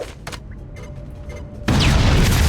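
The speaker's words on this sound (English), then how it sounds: "I'm going to call that a successful explosion" Sudden loud explosion in the tactical game XCOM: Chimera Squad, a heavy broadband blast that bursts in after quieter clicks and hold at full strength to the end.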